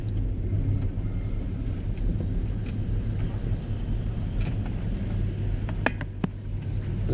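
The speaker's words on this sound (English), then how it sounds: "A traffic jam here." Steady low rumble of cars idling and creeping through a traffic jam on a road in Chimayo, heard continuously from inside or near a vehicle, with a couple of faint higher clicks near the end.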